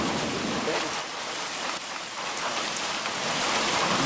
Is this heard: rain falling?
yes